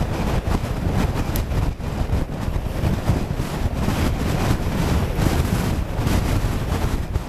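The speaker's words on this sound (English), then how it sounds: "Bloody wind." Strong gusting wind roars across the microphone while a cyclist descends a hill crossing Shap, a dense, continuous low buffeting rumble that fills the whole stretch, loud and close, with no voices.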